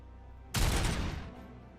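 Gunfire rips out in the RoboCop: Rogue City video game, a sudden loud burst of rapid shots lasting under a second after a quiet start, then trailing off into a softer reverberant tail.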